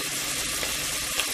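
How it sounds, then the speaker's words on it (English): Onions cook in butter in a pan with a steady, dense sizzle and no break in it, heard close and alone. "then I have my onions that are cooking in butter"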